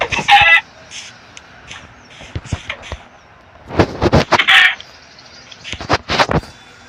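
Chickens in the video game Minecraft cluck in short, loud, close bursts with brief gaps between them, mixed with other clipped game sound effects.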